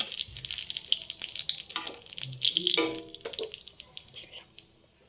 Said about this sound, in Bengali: কালো জিরে আর শুকনো লঙ্কা দিয়ে দিচ্ছি ফোড়নে ডালে।